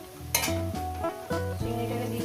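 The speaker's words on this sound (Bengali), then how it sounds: "দিয়ে আমি আরো 1 মিনিট চিংড়ি দিয়ে ভেজে নেব" Shrimp frying in a pan with water spinach and turmeric powder, heard as a sizzle broken by a few sharp scrapes and clinks of a utensil against the pan, close by with no talking.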